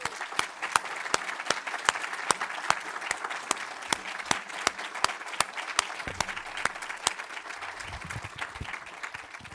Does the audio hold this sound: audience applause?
yes